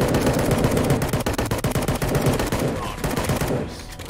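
Rapid automatic gunfire from a weapon in the Fallout video game, loud and sustained bursts of close shots that thin out toward the end, with no one talking.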